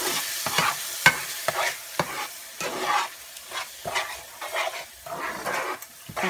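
Whole spices, including a cinnamon stick, frying in a pan for a prawn malai curry, stirred with repeated scraping strokes in an uneven rhythm over a soft, close sizzle.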